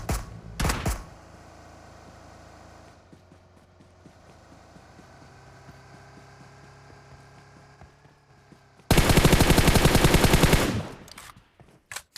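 Automatic rifle gunfire in a PUBG-style shooter video game, with a sharp burst at the start, quieter ambient game sound in between, then a loud sustained rapid-fire volley near the end.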